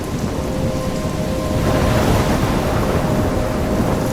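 A thunderstorm in the video game Life is Strange: heavy, steady rain pours with deep rumbling thunder swelling in the middle, loud and continuous throughout, with no voices.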